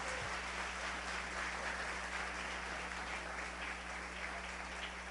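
A church congregation applauding continuously, a dense and even wash of clapping heard from a middle distance over a low steady hum.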